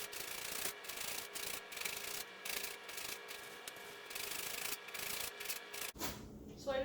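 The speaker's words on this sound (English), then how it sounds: "Then zest it using the fine side of a cheese grater." A lime is rubbed over the fine side of a cheese grater in repeated close, raspy scraping strokes, with short pauses between passes and a brief clatter near the end.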